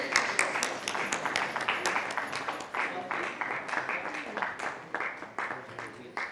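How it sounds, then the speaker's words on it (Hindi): A crowd at an award ceremony applauds steadily for several seconds, dense clapping that swells and tapers slightly, with a voice faintly audible underneath. "एक बार जोरदार तालियां डॉक्टर मनोज शर्मा जी के लिए।"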